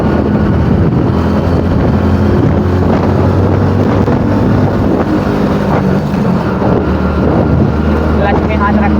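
A motorbike ridden in third gear gives a steady engine drone throughout, with heavy wind rush over the microphone and a voice talking above it.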